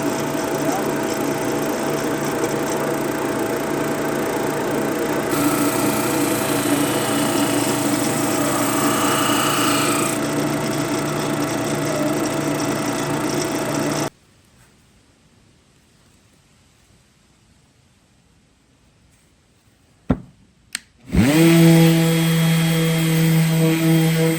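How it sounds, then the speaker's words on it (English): A drum sander works a resin-cast wooden Christmas board, giving a loud, steady broadband roar for about fourteen seconds. Near-silence follows, then the machine abruptly starts up again with a hum. "we're going to get it through the drum sander"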